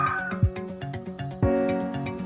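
Chickens cluck and call intermittently nearby, with a couple of sharp low thumps among the clucks.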